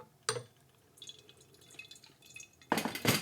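Water poured for a quick rinse of a tea vessel during a tasting, a brief splash and light dripping, then a louder bright pour near the end, close and without talk.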